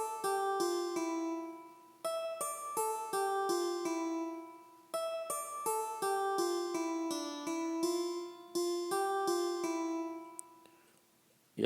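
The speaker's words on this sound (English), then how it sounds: "go on to the next part of the song, which is the guitar" Plucked guitar part from a hip-hop instrumental beat, a simple repeating melodic phrase of bright, clean notes in steady rhythm, alone and close, each phrase ringing out before the next begins.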